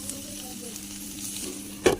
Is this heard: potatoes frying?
yes